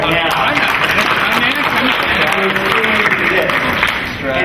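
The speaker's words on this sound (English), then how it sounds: "So first, give yourself a round of applause right now." A conference audience bursts into sustained, loud applause, dense clapping filling the room for several seconds with scattered voices mixed in.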